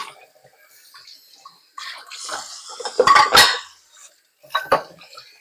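Dishes, pots and pans clatter and clink in a home kitchen sink, with scattered cutlery knocks and a louder cluster of clanks midway, close and alone with no talk.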